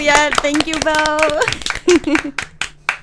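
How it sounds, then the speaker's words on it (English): A few people clap in quick, sharp bursts for Bo, close and loud, while a voice talks over the clapping. "we have to clap first for Bo"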